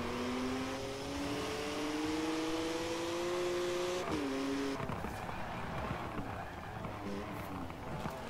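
Ford Mustang GT350R V8 racing in Forza, a rising engine whine that climbs steadily, dips at a gear change, then turns into rougher revving and road noise, fairly loud and continuous.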